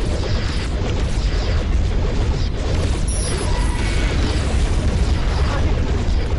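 Spaceship weapons fire in the space combat game Starpoint Gemini 2, a steady loud roar of blasts and rumbling booms with mechanical clatter running throughout, with no pause.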